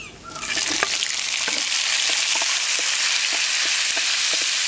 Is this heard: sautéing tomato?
yes